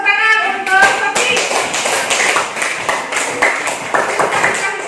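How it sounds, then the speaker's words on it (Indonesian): A voice speaks briefly, then a classroom of students claps for a classmate in a lively, uneven patter of hand claps that carries on steadily. "tepuk tangan untuk Sofi"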